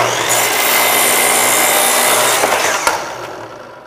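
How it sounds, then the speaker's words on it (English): A slide arm saw cuts through wood with a steady, loud, continuous rasping buzz that holds for nearly three seconds, then tapers off as the blade clears the cut. "With the slide arm saw, you'll get a nice straight cut."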